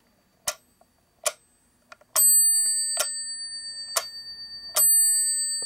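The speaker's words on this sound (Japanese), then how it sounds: "ベルをチーンと叩いて鳴らしてますね" A small bell inside an old mechanical metronome rings out clearly with a sustained, bright chime. Several sharp ticks come before it at a steady beat, and the ticks carry on over the ringing.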